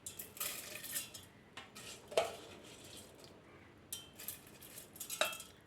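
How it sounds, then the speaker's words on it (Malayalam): Drained raw rice tipped into a mixer grinder jar, a few scattered clinks and rattles of grains and a spoon against the jar, faint and intermittent in a quiet kitchen. "ഇനി നമുക്കിതൊന്ന് മിക്സിയുടെ ജാറിലേക്ക് ഇട്ട് കൊടുക്കാം"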